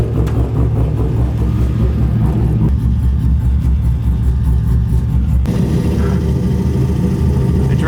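A custom-built vehicle's engine idles and warms up nearby, a loud, steady low rumble that shifts character partway through.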